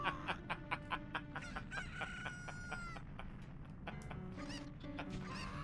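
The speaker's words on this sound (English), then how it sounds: "Chicken!" A cucco chicken in an Ocarina of Time romhack, Hero of Law, gives a quick run of rhythmic clucks followed by a drawn-out crow and more scattered clucking, clear and close over faint game background sound.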